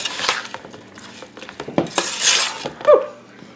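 Jalapeno peppers going into a pot of hot liquid for cowboy candy, with a few spoon scrapes and metal clinks against the pot, a brief swishing stir and a sharp clatter near the end, close and moderately loud.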